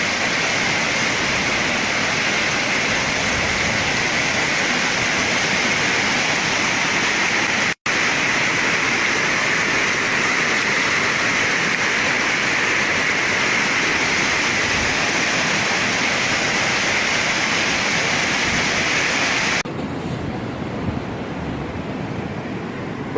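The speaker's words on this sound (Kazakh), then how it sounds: "Вода прибивает и прибивает." Floodwater rushes through a village after heavy rain, a loud, continuous roaring wash that runs unbroken for over twenty seconds, with a short dropout near the start and a slightly quieter tail at the end.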